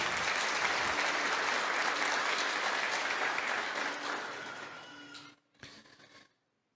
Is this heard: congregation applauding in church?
yes